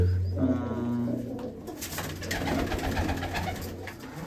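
Old-line domestic pigeons, including green pigeons kept by a fancier, coo in low, throaty, repeated calls close by, over steady background rustle and noise with no talking.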